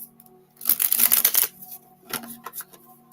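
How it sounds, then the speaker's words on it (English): An oracle card deck riffled and shuffled in a quick burst of dense flicking, then a few softer, scattered card sounds in a quiet room. "One more shuffle."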